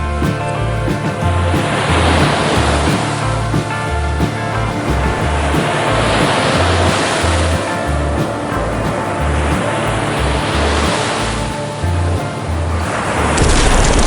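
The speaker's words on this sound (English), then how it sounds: "whaleboats launching into the churning sea as Ahab shouts mix with the wind." Churning sea waves and wind as a sound effect, a loud, continuous roar of surf with rolling swells rising and falling several times over a low rumbling undertone, with no voices.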